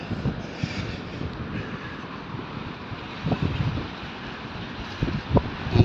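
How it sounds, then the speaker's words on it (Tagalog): Strong cold wind buffeting a microphone while walking outdoors in Abu Dhabi in January, a continuous rushing roar with low gusty thumps that swell louder near the end, no voices. "Malakas ang hangin"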